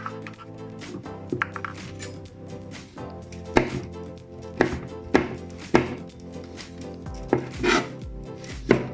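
A knife slices chili on a cutting board in a steady series of sharp knocks, close and clear, with no talk.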